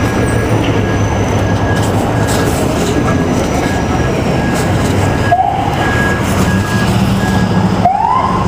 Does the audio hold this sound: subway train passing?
yes